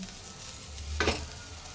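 Sago sizzles in a pan and is stirred, a constant frying hiss with one brief scraping stir toward the middle, close and moderately loud.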